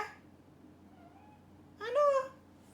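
A cat gives a faint short cry at the start, then a louder, close, drawn-out meow near the end, over a quiet room hum with no talking.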